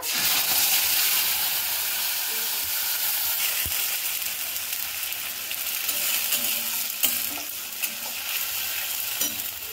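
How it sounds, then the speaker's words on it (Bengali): Dried red chillies and cumin seeds sizzle in hot oil in a steady, close, hissing fry, with occasional faint stirring clinks and no talking. "তেলে আমি শুকনো লঙ্কা দিয়ে দিলাম, আর দেব সাদা জিরে।"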